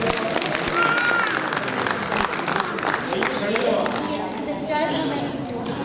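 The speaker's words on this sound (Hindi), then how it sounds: "एक बार तालियों के साथ अभिवादन" Audience at a book launch event applauds the members gathered on stage, a loud continuous wash of clapping lasting several seconds with voices mixed in.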